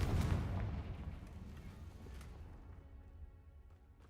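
Confringo fire spell blast in a Harry Potter video game, a single deep booming explosion up front that rumbles and fades out over a few seconds.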